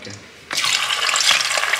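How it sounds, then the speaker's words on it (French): Griot pieces of meat drop into hot oil in a large pot and set off a sudden loud, steady sizzle that keeps crackling after a quieter opening. "Donc là maintenant, on va frire la viande."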